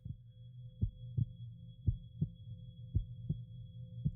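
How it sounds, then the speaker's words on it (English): A slow, steady heartbeat thumps at close range as a series of soft, low lub-dub pulses over a faint, constant hum. "I love the heartbeat."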